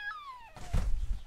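A cat meows in a podcast sitcom, one short falling cry, then a thump and rustling noise.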